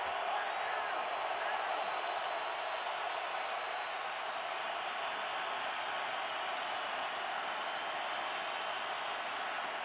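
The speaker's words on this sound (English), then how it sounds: "And with the crowd roaring" A stadium crowd at an NFL football game between the Patriots and Cardinals roars steadily and broadly in a dense, sustained wash of noise that holds at an even level for about ten seconds, with no breaks.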